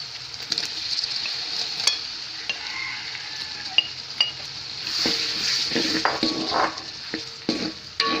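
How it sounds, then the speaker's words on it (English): Prawns sizzle and fry in a pot for a Sri Lankan prawn biryani while a utensil stirs and scrapes against the metal, with clinks and bursts of sizzling over a constant frying hiss. "Now I'm going to add the prawns."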